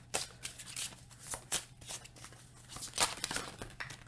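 Close, quiet riffling of a deck of oracle cards being shuffled by hand, in repeated short bursts of papery flutter and soft slaps, with no voice over it.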